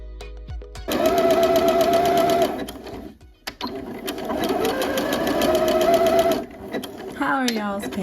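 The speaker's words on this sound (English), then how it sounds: "And we're just gonna stitch down the band" A sewing machine zigzag stitches down the leg band on a pair of joggers at a 5/8 inch seam allowance, loud close motor bursts running in two long stretches with a pause between.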